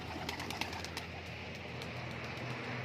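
A male pigeon lifts off inside a loft, and a few quick wing claps and flaps stand out over a faint, steady background hum. The sound is quiet and brief, with no voices.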